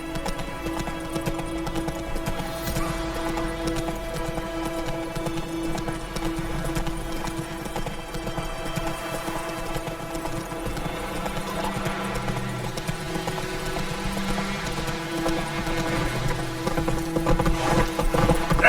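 Geralt's horse Roach gallops continuously through The Witcher 3's world, with a rapid, steady hoofbeat rhythm under a dense bed of ambient game sound that swells slightly toward the end.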